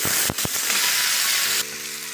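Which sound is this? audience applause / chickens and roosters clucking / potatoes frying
potatoes frying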